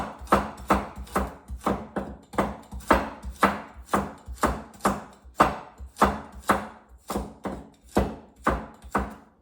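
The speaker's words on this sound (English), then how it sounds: "Carrot is a little bit hard, so when you chop it" A knife chops through hard carrot on a cutting board in a steady, even rhythm of about two crisp thuds per second, close and clear, with no talking.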